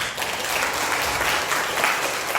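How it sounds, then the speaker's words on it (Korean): A church congregation claps in welcome for a retired senior pastor coming forward at a Sunday worship service, steady dense applause filling the hall throughout, with no talk over it. "큰 박수로 환영해 주시기 바랍니다"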